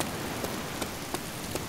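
Rain in the video game DayZ, an even, dense hiss of falling drops on surfaces with faint periodic pulses, steady and uninterrupted with no speech.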